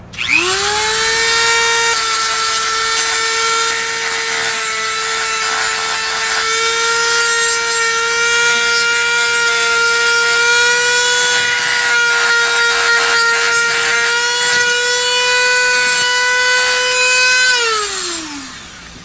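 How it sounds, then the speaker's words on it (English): A high-pitched Dremel with a sanding drum roughing up smooth pistol grips whines steadily at close range for about eighteen seconds, its pitch holding nearly constant, with small grinding fluctuations before it spins down. "The sanding drum on the Dremel does a really good job."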